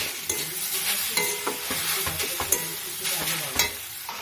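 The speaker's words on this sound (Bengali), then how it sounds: "নাড়িয়ে নিচ্ছি" Steady sizzling of sweet potato frying in a pan, broken by repeated scraping and clinking strokes of a spoon stirring it close by.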